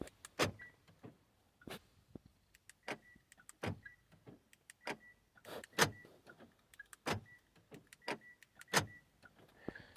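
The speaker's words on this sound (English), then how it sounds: "The key will lock the doors." A 2013 Hyundai Sonata Hybrid's door locks cycling as the key fob is used, with a series of sharp, irregular mechanical clunks and actuator clicks at close range and no talk.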